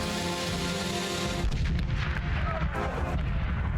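Cannon battery firing grapeshot at Russian lines during the Finnish War of 1808–1809, heard as a dense, continuous roar of loud booming gunfire that swells slightly midway.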